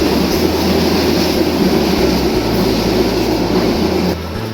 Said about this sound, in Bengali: তিন হাজার উনিশ সিরিজের লোকোমোটিভ নিয়ে ঢাকা থেকে সেরে আসা বুড়িমারিগামী আটশো নয় up Burimari express Azimnagar railway স্টেশনের দুই নম্বর লাইন দিয়ে থ্রোপাস করে চলে যাচ্ছে